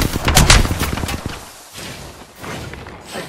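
Rapid bursts of gunfire in the battle royale game Apex Legends, loudest and densest in the first second, then continuing as quieter scattered shots with thuds.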